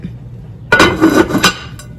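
Lid set down over a pan of pork chops cooking on the stove, a bright clinking clatter of metal and glass, a couple of close knocks followed by faint sizzling.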